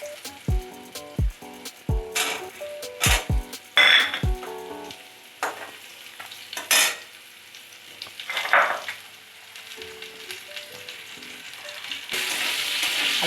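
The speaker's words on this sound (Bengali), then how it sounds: "এই তেলের মধ্যেই আমি আলুটা দিয়ে দিচ্ছি।" Potato pieces go into hot oil for a Bengali rui fish kalia: a few sharp clatters and splashes, then a steady close sizzle with occasional stirring scrapes, swelling louder near the end.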